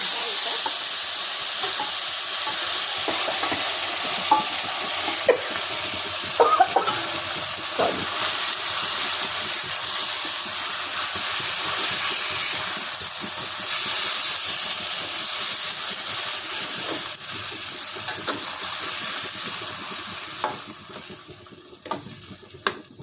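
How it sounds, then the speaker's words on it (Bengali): Potato pieces frying in a pan for a garlic kochuri recipe, a steady close sizzle and hiss throughout with occasional stirring clatter and clicks. "এটাকে আমি একটু ভেজে নেব।"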